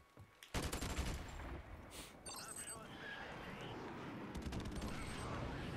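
An AK rifle in Modern Warfare multiplayer fires in rapid, close bursts at first, then battle noise rumbles on at a lower level with a voice talking over it.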